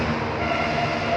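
An LRT light rail train on an extension line rolls past in a steady, loud, close rumble with a rail hum, sustained with no break for the whole brief moment.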